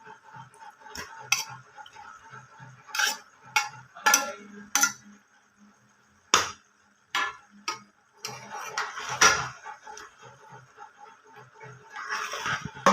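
Egg polao with potatoes, eggs and fried red bell pepper stirred in a pot, spoon clinks and scrapes against the metal coming in irregular close bursts, with quiet gaps between them and no talking.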